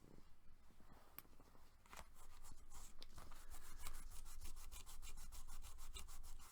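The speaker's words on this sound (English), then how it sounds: "I'm burnishing and getting the excess glue off" A bone folder or burnishing tool rubs firmly across a glued paper-and-cardstock Halloween craft project, pushing out excess glue; close, steady scraping strokes in a quick repeating rhythm that grow louder after the first two seconds.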